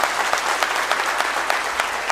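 Audience clapping at a political speech at a Nashik event, a dense sustained burst of applause from a crowd with rhythmic peaks, fairly loud and close.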